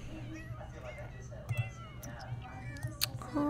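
Several cats in The Sims 4 meow and caterwaul in short overlapping calls, mixed with a person talking throughout and a low steady hum underneath.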